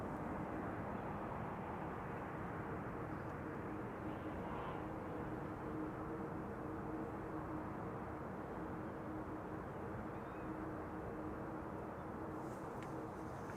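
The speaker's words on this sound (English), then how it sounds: "And there's our Chinese A330" An Airbus A330 airliner at Amsterdam Schiphol Airport gives a steady, broad engine roar that holds at a fairly even level throughout, heard from a distance with no voices.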